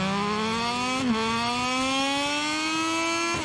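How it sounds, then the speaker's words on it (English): A racing motorcycle engine in the game MotoGP 22 howls at high revs in the rain, pitch climbing steadily through the gears with two brief shift dips, loud and close with wheel spin. "Wheel spin all the way up through the revs."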